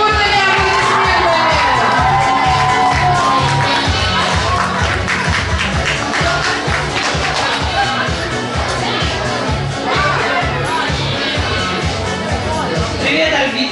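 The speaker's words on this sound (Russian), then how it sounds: "Вот они, аплодисменты." An audience at a children's awards ceremony claps and cheers steadily throughout, loud and close, with shouts and voices mixed in and a rhythmic clapping pattern under the crowd noise.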